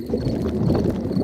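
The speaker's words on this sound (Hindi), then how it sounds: "ये डैडी के पेट की आवाज है।" A cartoon pig's stomach rumbles, a low, muffled gurgling grumble that runs continuously for over a second, close and fairly loud with no voices over it.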